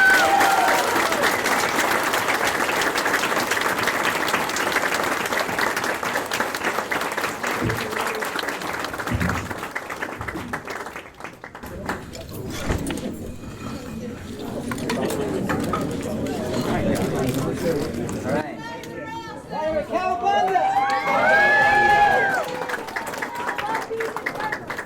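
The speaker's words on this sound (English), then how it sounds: "Let's give them a round of applause." Audience applause and cheering at a comic con panel fills the first ten seconds as a dense, steady roar of clapping, then thins out as talk and scattered voices take over.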